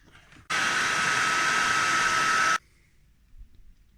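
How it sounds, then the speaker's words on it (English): A hair dryer standing in as a heat gun on EC5 connector heat-shrink blows with a steady loud whoosh for about two seconds, switching on and off abruptly. "take the poor man's heat gun"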